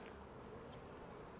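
Honey bees buzzing around an open nuc hive box, a steady, dense hum filling the background without break, fairly faint and close.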